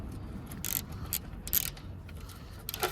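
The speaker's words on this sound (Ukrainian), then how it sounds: "Болт, який знаходиться ось тут, закручуємо з моментом 20 Н." A wrench tightens a bolt to torque on a Yamaha motorcycle during chain cleaning, giving a few short bursts of ratcheting clicks spaced irregularly, fairly close and quiet.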